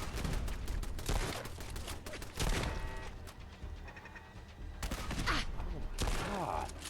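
Automated turrets firing in the video game Fallout London: bursts of rapid, crackling gunfire come in waves, with brief pauses and some faint background game noise.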